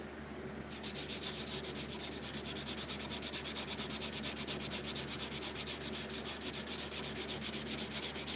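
A knife edge being worked to remove scratches, giving a continuous close rasping rub with steady fast strokes, even and unbroken throughout.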